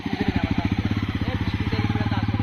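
Motorcycle engine running steadily up close, a rapid regular thumping pulse with a slight rise in revs toward the end, loud and continuous.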